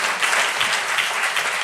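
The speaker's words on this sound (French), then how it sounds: "Je vous demande d'applaudir Ali Rabet" Audience applause for a speaker at a political talk on ecology in France, steady dense clapping from a crowd, fairly loud and continuous throughout with no talking.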